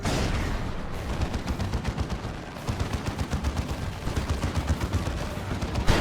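A dense, continuous barrage of tank shells and gunfire from a Dawn of War 2: Retribution battle, with rapid repeated impacts at a steady loud level and a brief dip midway.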